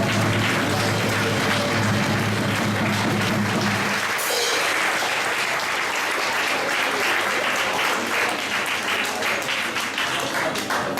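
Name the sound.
applause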